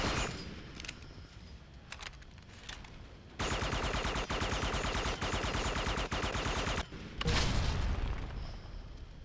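Gunfire hits tires in the Red Faction 2 video game. A long, loud, steady burst of rapid automatic shots rattles for several seconds, followed by a second intense burst, over quieter game ambience.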